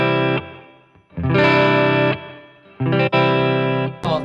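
Electric guitar through a Line 6 Catalyst amp with reverb placed after the amp's distortion: loud, sustained overdriven chords in three long bursts with short gaps and a trailing wash, no voice.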